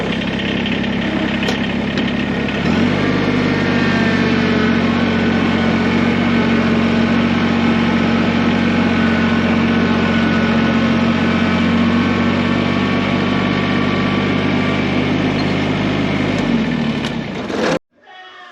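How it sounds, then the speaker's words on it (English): A tractor engine runs loud and close, starting up and settling into a steady, throbbing drone for about fifteen seconds before shutting off sharply. "So let's go ahead and move this tractor up."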